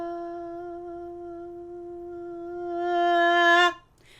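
A trombone holds one steady note, softening slightly and then swelling louder before cutting off sharply; solo, close and clear.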